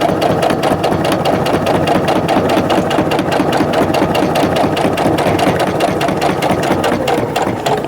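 Sewing machine running steadily while back-stitching to reinforce the seam of a zip top bag, a loud, continuous rapid needle clatter with a dense, even rhythm throughout.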